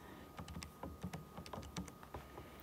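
Quick, light plastic key taps on a calculator as numbers are entered, a dozen or so soft clicks in an uneven rhythm, close and quiet.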